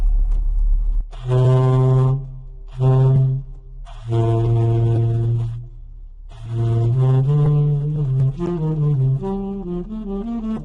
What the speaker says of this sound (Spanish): esto es el sonido de subtone, que es tirando el labio más atrás